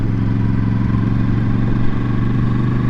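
A QJ SRV600 V4 four-cylinder custom motorcycle taken gently through a tight curve, its engine a steady, loud, close throbbing drone at even revs, with no talk over it.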